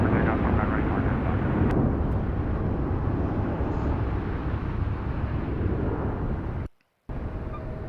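An American Airlines jet takes off from runway 25 right at LAX, a loud, steady roar of engine noise that fills the whole stretch. It is broken only by a sharp dropout near the end.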